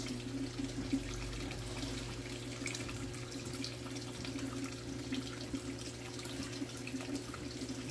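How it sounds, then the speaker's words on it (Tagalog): Water pours steadily into a container holding Australian redclaw crayfish juveniles, a continuous close splashing rush like a running tap, with no talk. "Dadagdagan natin ng tubig."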